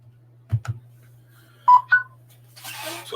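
Phone keypad tones: a pair of short, clear dialing beeps stand out in a quiet room over a steady low hum, with a couple of soft thumps just before and a rustling noise at the end.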